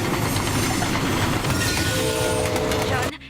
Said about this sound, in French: 2 trains de marchandises sont sur le point d'entrer en collision